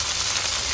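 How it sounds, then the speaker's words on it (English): Masala spices sizzling in hot oil in a frying pan while being stirred, a steady dense hiss, close and even throughout. "after that you can add that special mixture of masala to the pan, and just stir it and mix it well together"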